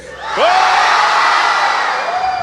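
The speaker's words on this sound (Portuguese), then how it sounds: "foi o melhor grito aterrorizado que eu já ouvi" A large church audience shouts a single sustained terrified scream together, a loud, dense crowd yell that rises sharply and holds for about two seconds before tapering off.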